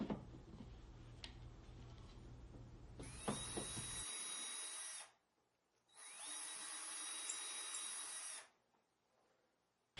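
Two bursts of a power drill boring pilot holes into the front of a wooden drawer with a 2.5mm bit, each high whine lasting about two seconds with a short pause between, close up.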